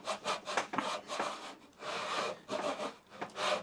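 A hand saw cuts a rebate in wood for a grooved tray in close, steady back-and-forth rasping strokes, quiet and rhythmic with no talking.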